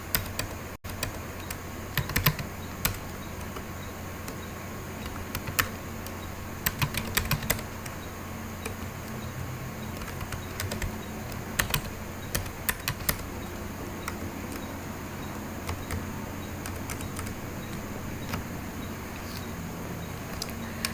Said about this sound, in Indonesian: saya akan mengetik angka 45 kurang